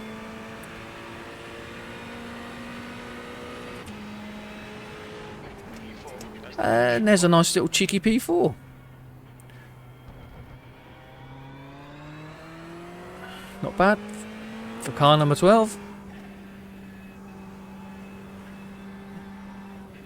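Ferrari 488 GT3 EVO race car in iRacing hums in the background with a steady engine drone, broken by two loud bursts of revving and gear shifts, while someone talks over it throughout.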